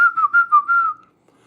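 A viewer's whistle alert rings out during a livestream: a clear, close tonal whistle in several quick chirping bursts that glide into one sustained note lasting about a second, then stops into quiet.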